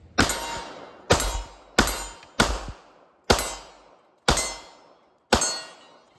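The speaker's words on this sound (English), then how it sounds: "But we're going to shoot the Luger today." A German Luger 9mm pistol fires seven sharp, loud reports at uneven intervals, each shot followed by a brief decaying ring.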